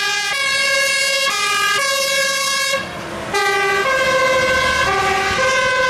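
A toy fire truck siren blares loud and close, cycling through a repeating electronic wail with a brief dip partway through.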